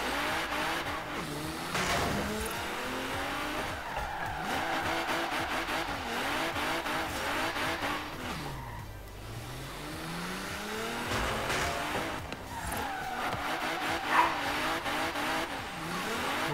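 Simulated car drifting in Forza Horizon 3, driven with a G27 wheel, engine revving and falling in sweeping pitch glides with squealing tires, continuous and fairly loud throughout.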